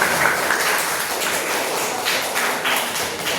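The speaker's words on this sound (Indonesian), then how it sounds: "Oke, tepuk tangan untuk kalian semua." A class of students applauds, a dense, steady patter of many clapping hands filling the room without any talk.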